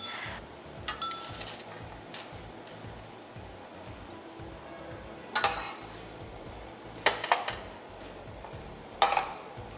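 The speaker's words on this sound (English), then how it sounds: "Now I'm gonna move the noodles into this bowl." Cooked Korean instant ramen noodles are lifted into a bowl, with soft stirring and a few sharp, brief clinks of a utensil against the dish over a low kitchen background.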